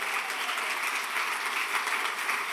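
A church congregation applauding during a sermon, a steady, dense wash of many hands clapping at even loudness with no distinct individual claps.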